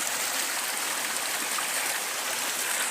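A river flowing steadily nearby at a crossing point outdoors, a dense continuous rushing wash of water with no breaks.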